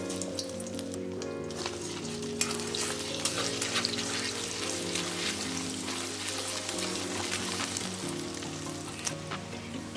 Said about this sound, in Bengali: দুটো ডিম আমি ভালো করে ফেটিয়ে ভেজে নেব